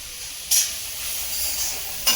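Food sautés in a pan with a soft continuous sizzle, broken by two brief bursts of louder hiss, with no voices over it.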